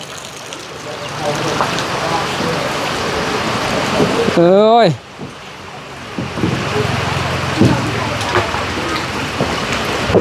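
Steady rain falls on an outdoor scene in rural Thailand, a dense continuous hiss throughout, with a voice calling out briefly and a short rising mechanical whine near the middle.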